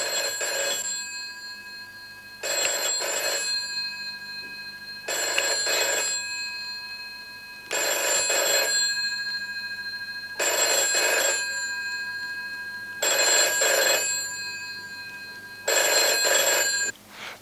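An old-style telephone bell rings in a slow, regular pattern, with seven long bursts of bright metallic ringing, each about a second and a half, separated by steady pauses, clear and alone.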